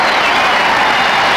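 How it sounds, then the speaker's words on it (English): Dense, steady applause and crowd noise from a large audience after a men's 3 m springboard dive at the 1984 Los Angeles Olympics, loud and continuous throughout. "Well, the crowd loves it here."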